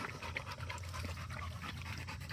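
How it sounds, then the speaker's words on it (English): Dogs on a walk pant quickly and steadily, close by and fairly quiet, in a continuous rhythm of short breaths with no talking. "You guys are panting a lot."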